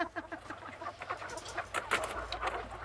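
Nervous hens on a farm clucking in quick, uneven bursts, close and fairly quiet, with several birds overlapping and no talk over them.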